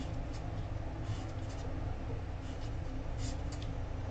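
A pen scratches steadily across a surface while a neural-network diagram is sketched, a soft continuous scraping with brief pauses and no voice.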